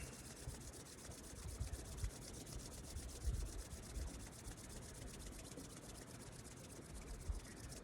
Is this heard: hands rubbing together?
yes